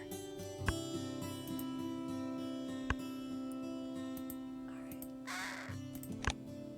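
An American crow gives a few harsh caws over a steady droning background, with a brief broad rushing noise partway through.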